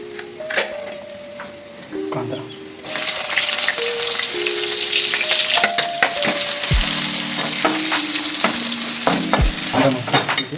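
Chopped onions frying with cumin in a pan, starting to brown; a quiet stretch of stirring clinks gives way to a loud, steady sizzle, close up, with repeated utensil scrapes and knocks against the pan.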